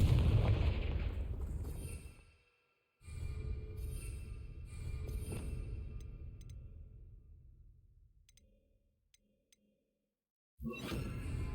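A fiery spell blast in a fantasy video game: a loud booming explosion with a rumbling tail, followed by further heavy bursts that fade away, a short silence, then another surge of noise at the end.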